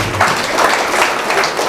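A congregation clapping together at a church Christmas celebration, a short, dense burst of applause filling the room.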